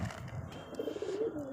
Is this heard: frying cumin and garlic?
no